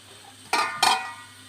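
Two quick metallic clanks land a fraction of a second apart as a lid is set onto a pan of frying onions and chicken, close and fairly crisp against a quiet background.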